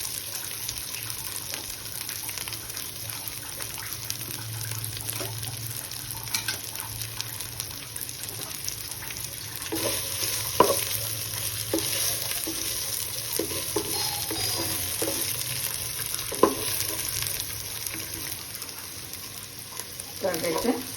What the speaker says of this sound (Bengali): আবার নাড়াচাড়া করবো।